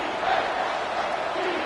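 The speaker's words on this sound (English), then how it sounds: "Here comes this home crowd as the defense tries to get off the field on third down" Home crowd at a college football game roaring steadily in a dense, continuous wash as the defense faces third down, with no let-up across the moment.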